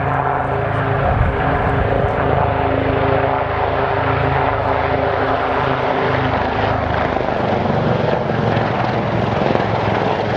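A large aircraft touches down gently at the Yeovilton air display, its propeller engines droning loud and steady with a broad roar throughout and no voices over it.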